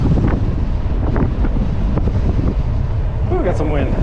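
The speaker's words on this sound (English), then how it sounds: "got some wind" Wind buffets the microphone of a Mokwheel Slate e-bike during a fast ride at high pedal-assist, a steady loud roaring rumble throughout with a faint whistle near the end.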